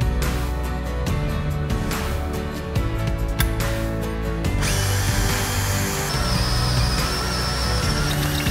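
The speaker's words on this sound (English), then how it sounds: "drill a hole so that I can plug weld this to the bung" Power drill boring a hole in metal for a bung while installing a Maier Racing Panhard bar, with loud bursts of whining drilling that stop and start, then a longer sustained run.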